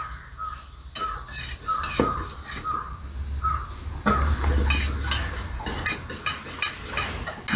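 Rice flour and milk stirred together into a loose batter in a bowl, a steady scraping, clinking stir close by with short bumps and knocks of the spoon against the bowl.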